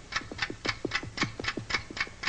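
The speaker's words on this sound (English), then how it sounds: "Listen to that clock ticking." A loud clock ticks steadily, its crisp, evenly spaced ticks arriving about four times a second, close by and alone with no talking.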